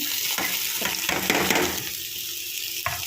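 Flattened rice (poha) fries in a tempering pan, a steady close sizzle with bursts of louder crackling and the rustle of stirring.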